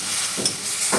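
Mustard leaves are stirred in a frying pan, giving a steady close sizzle with two soft scraping swishes of the spatula over the hot oil.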